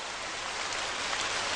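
Rain pours steadily in a brief, dense, uniform hiss of many drops striking a surface, with no voices.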